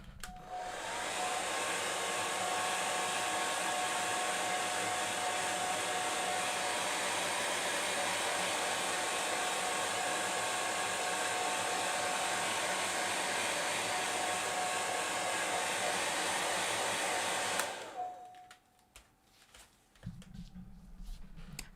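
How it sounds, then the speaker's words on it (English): A hair dryer blows steadily and loudly over wet alcohol ink on Yupo paper for about seventeen seconds, a constant whooshing roar that cuts off abruptly into quiet room tone. "Let's do the hairdryer one more time."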